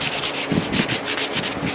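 Hand sanding of a polyurethane finish with gray sandpaper gives a steady back-and-forth rubbing, close and fairly loud, in quick regular strokes.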